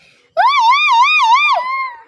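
A village boy mimics an ambulance siren with his voice, a loud, close wailing tone rising and wavering for about a second and a half before trailing off.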